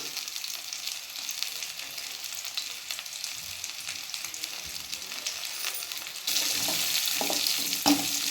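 Grated coconut and tamarind sautéing in a pan for manathakkali keerai chutney, a steady close sizzle with stirring scrapes that turns louder and brighter near the end.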